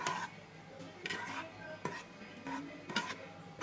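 Onions and chili are being sautéed in a Noxxa pressure cooker, heard as quiet, intermittent sharp clinks and scrapes of a utensil against the pot, recurring about every second.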